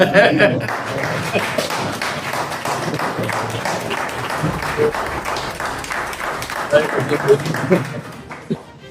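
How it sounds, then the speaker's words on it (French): Applause for the presenters at a French-language planning workshop: steady, dense clapping from a room of participants, holding at an even level for several seconds with a few louder bursts near the end, voices mixed in. "on va dire standing ovation pour vous"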